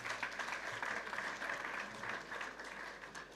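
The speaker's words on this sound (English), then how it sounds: "Let's clap for them." An audience applauds visiting tertiary institution representatives at a gathering, with a steady wash of many hands clapping, moderately distant and quiet, tapering slightly at the end.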